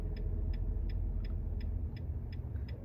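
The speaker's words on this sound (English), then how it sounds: "if you hear that little grinding noise, that's actually the compressor, best I can tell" The AC compressor on an idling Nissan Titan pickup with a failing clutch fan gives off a faint, regular ticking grind, about three beats a second, over a steady low engine rumble.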